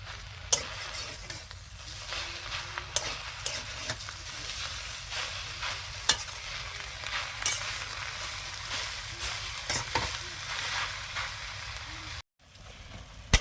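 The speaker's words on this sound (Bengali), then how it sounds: "এবারে খুন্তি দিয়ে নাড়িয়ে দেবো" A spatula stirs salted taro leaves in a pan with scattered scraping knocks over a soft, continuous sizzle, ending in a brief drop to silence.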